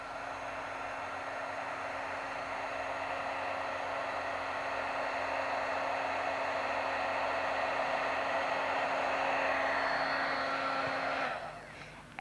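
An embossing heat tool blowing hot air over embossing powder, a steady loud whooshing fan-and-motor hum with a faint tonal whine, running continuously for about eleven seconds before being switched off and spinning down.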